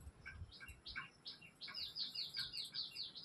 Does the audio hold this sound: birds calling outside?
yes